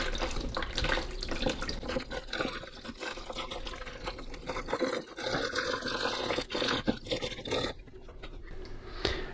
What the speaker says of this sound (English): So let's give these two things a rinse out.